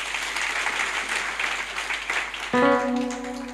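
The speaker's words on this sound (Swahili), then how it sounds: "Tumpigie Yesu makofi." A church congregation at a Sunday service claps together in steady, dense applause, which gives way near the end to sustained music tones rising over the clapping.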